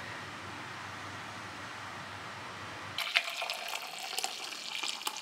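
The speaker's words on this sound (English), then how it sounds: "pouring my coffee" Coffee being poured, a steady liquid trickle that starts after a stretch of low room hum and continues with light splashy fluctuations, close and moderately loud, with no voices.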